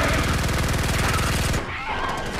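An SMG in Starship Troopers: Extermination firing in a rapid, loud, continuous burst of closely spaced shots for about a second and a half, then cutting off into a brief mechanical rattle.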